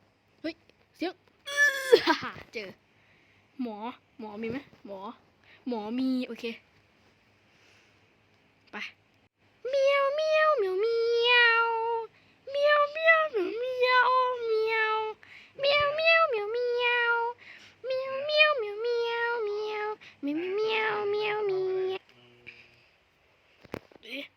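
A voice imitates a cat, giving a long run of drawn-out, whiny meows in bursts with short pauses, close and clear in a quiet room.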